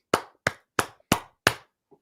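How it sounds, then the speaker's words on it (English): A radio host gives five sharp, evenly spaced hand claps, close and crisp in a quiet studio, followed by a faint trailing tap. "We'll give you a few claps."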